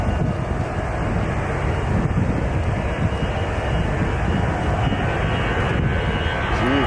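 A big Delta jet airliner roars steadily at Nashville International Airport, a loud, continuous broadband engine rumble and rush with wind buffeting, no speech.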